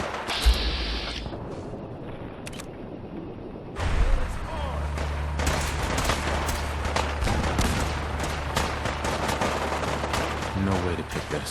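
Gunfire in Fallout 4 rattles in rapid bursts of sharp shots, loud and near, over a low rumbling battle backdrop. A brief lull comes first, then sustained firing, with voices heard at moments.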